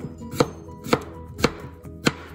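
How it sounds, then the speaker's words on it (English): Four evenly spaced knife chops through potato on a cutting board, crisp and close, each a sharp thunk against the board with quiet pauses between. "And then just chop."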